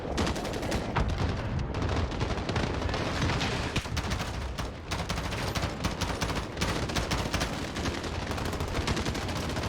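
Rapid FAL rifle gunfire in the Call of Duty video game: dense bursts of shots crack one after another, loud and close, filling the stretch with little pause.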